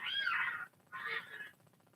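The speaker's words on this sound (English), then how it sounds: "Sounds like a major cat fight going on." Two loud, close, drawn-out yowling cat cries, the first longer, separated by a short pause, harsh and strained like cats squaring off in a fight.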